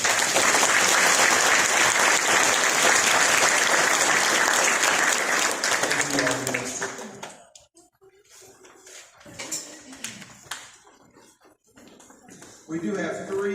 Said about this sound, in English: So please give these students a round of applause.